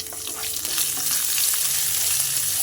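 Crushed ginger and garlic frying with pork and coconut pieces make a loud, steady, close sizzle that builds slightly, with faint stirring and no talk.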